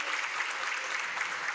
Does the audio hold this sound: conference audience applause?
yes